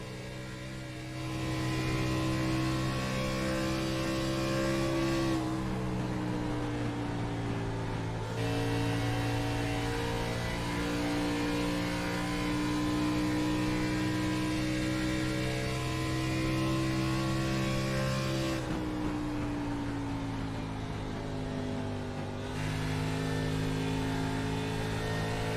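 Onboard race car engine at the Bluegrass Country short track during an NSRA Beer Street Journal 150 playoff race, a loud steady drone that dips twice as the driver lifts off and then climbs back up, with no talking.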